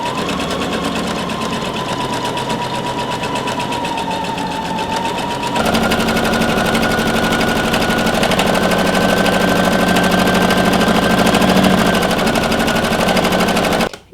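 A sewing machine stitches a hem with a hemmer presser foot, a fast, steady mechanical chatter with a whining motor tone that shifts pitch partway through and runs continuously before stopping.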